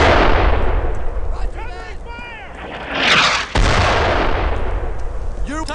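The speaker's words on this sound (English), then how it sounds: "Tadek! Hit that artillery!" Artillery fire from the WWII shooter Brothers in Arms: Earned in Blood, with loud booming blasts and gunfire amid battle noise, one heavy impact standing out near the middle, while soldiers shout over the combat.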